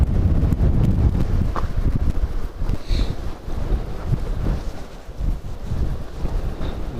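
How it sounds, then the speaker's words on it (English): Strong wind buffets the microphone on a high hilltop in Cyprus, a loud continuous rumbling roar with gusty swells and no speech. "Wow, this wind. I can hear it now."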